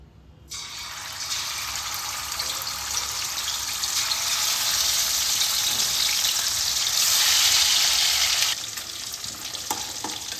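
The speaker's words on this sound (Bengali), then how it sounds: "তেল গরম হয়ে গেছে এবার আমি মাছগুলোকে ভাজবো" Fish pieces hitting hot oil for a katla kalia, a loud, steady close-up sizzle that swells over several seconds and then drops back to a lighter crackle.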